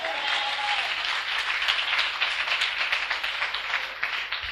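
A church congregation applauds and cheers together during a worship service, dense, continuous clapping heard from within the crowd at moderate level, without a break across the whole stretch.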